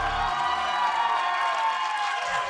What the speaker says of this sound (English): Can we get another round of applause for Team Liquid?